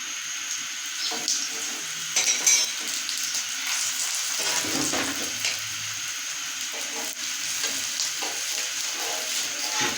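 Aloo paratha frying in ghee on a pan after being flipped, a continuous bright sizzle with occasional scraping and clatter, fairly close and steady throughout.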